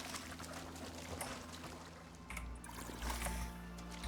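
Water is collected in the survival video game Icarus, a continuous watery pouring and trickling sound with a low rumble that swells in the second half, steady and fairly close.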